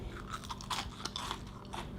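Several crisp, close crunches of biting into homemade Chick-fil-A style waffle fries, with chewing between them and no talking.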